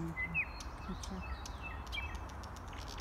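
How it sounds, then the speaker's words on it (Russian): Small birds call after rain, giving faint, scattered high chirps and short tweets over a low background rumble, with a distant voice murmuring underneath. "Кричат сильные птички. После дождя это не напевает нам."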